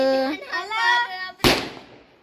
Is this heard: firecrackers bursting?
yes